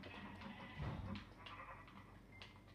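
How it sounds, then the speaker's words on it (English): A sheep in the video game Minecraft gives a short bleat over quiet background game sound, with nobody speaking. "Go kill the sheep for a bed"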